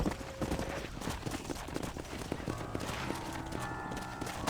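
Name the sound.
horse herd hooves clip-clopping in video game Red Dead Redemption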